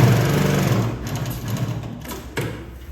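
A Mauser Spezial sewing machine runs steadily while stitching leather, giving a loud, even mechanical whir and chatter that eases off partway through the three seconds.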